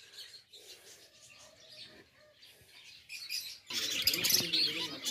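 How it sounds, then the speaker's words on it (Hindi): A pet laughing dove calling at home: repeated soft chirps and calls up close, followed by a louder, rough rustling burst near the end. "और इधर हमारा चिंटू वेट कर रहा है, बुला रहा है हमें।"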